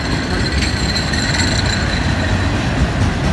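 Train 101, a BNSF or CSX freight of auto rack and container cars, rolls past close by with a steady loud rumble, wheel noise and faint squeal throughout.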